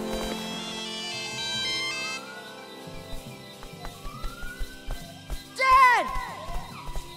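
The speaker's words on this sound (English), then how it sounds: "It's my dad's satellite phone." A satellite phone rings with a store jingle ringtone, a bright tonal melody at the start, then fades under cartoon sound effects and other noises.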